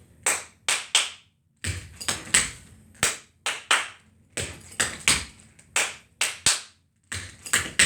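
Young children in a pre-primary tap class clap their hands and strike tap shoes in a steady matching beat, crisp sharp hits in short grouped patterns, close and loud, with no talking.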